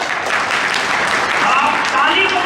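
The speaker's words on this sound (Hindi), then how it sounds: "आप ताली को बजा रहे हो" A seminar audience at a motivational talk in Noida breaks into steady clapping, a continuous wash of applause.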